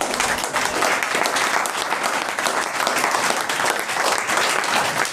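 A live audience at a one-day athletics event held by Amar Ujala Foundation and National Career Service Center applauds in welcome, a loud, dense and continuous burst of clapping that fills the whole stretch.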